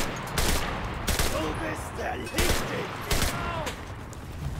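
Machine gun fire rattles through an Enlisted battle in repeated bursts, loud and dense with overlapping shots and some distant battle noise, while a voice talks over it.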